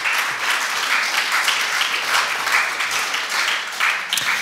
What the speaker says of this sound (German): Wir wollen ein bisschen mehr Applaus geht schon als dieses eine.